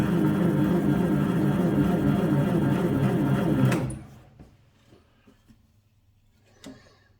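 A small metal lathe runs a knurling tool against a workpiece, a steady close mechanical whir and buzz that winds down abruptly, followed by faint clicks and handling noises.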